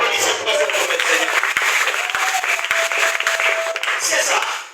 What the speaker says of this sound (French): Applaudissez pour ce Seigneur.